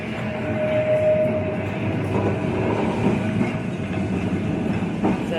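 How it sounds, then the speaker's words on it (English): Blackpool heritage tram Charlie Caroli rolls past on Lytham Road, a steady loud rumble of wheels on rail with a brief thin squeal early on and a faint clatter near the end, no voices. "So there is the heritage tram, the Charlie Caroli"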